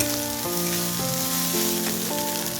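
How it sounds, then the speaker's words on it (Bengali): Rice frying in a pan with onion, tomato and two eggs gives a steady, close sizzle throughout, with a soft tonal melody running in the background and no speech. "এটাকে ভালো করে ভেজে তারপর আমি সার্ভ করে দিব"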